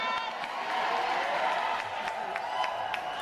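Crowd at a U.S. Navy boot camp graduation applauding and cheering steadily, a broad wash of clapping with scattered whoops, moderately loud and continuous throughout.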